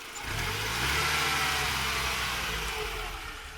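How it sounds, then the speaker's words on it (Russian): A Mercedes W202 engine, running hot, revs up and holds at high RPM, a steady loud mechanical roar that eases off slightly at the end. "Газани!"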